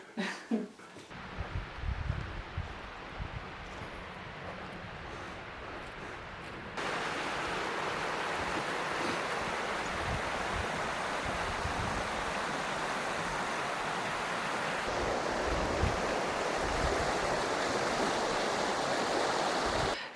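Radovna river water flowing steadily over rocks, a continuous close rushing wash that swells louder partway through and stays constant to the end.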